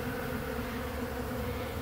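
A steady, dense drone of honey bees buzzing around hives outdoors, with many bees robbing because there is no nectar flow, heard continuously and close with no voices.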